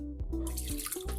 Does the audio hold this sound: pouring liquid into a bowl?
yes